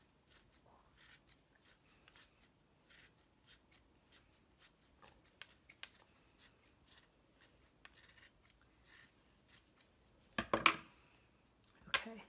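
Sharp scissors snip repeatedly through a dense, round yarn pom pom, with quick, close, quiet cuts in irregular bursts and a louder rustling handling sound near the end.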